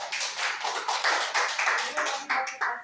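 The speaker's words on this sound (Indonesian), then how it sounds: "tepuk tangan" Rhythmic group clapping from teachers at an elementary school staff session, steady repeated claps in a regular beat, close and moderately loud with no talk over them.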